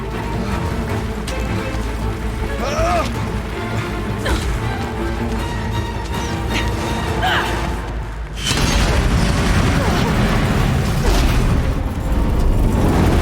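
Explosive ammunition detonates in combat in Horizon Zero Dawn: The Frozen Wilds, with booming blasts over a dense, busy wash of game noise, swelling into a louder, fuller burst partway through.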